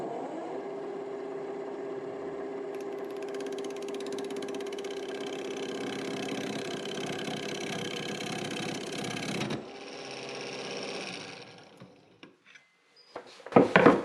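A wood lathe spins an apple wood bowl at 1000 RPM while a 3/8 inch bowl gouge cuts it, a steady loud whirring hum that stops partway through, followed by a few clunks and knocks.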